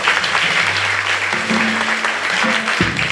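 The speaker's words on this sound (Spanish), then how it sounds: "Ahora un fuerte aplauso a nuestra Madre Santísima," Congregation applauding at an evening Mass at a fair in El Caulote, Santa Teresa, a loud, dense wash of clapping filling the whole moment, with a low sustained tone running beneath it.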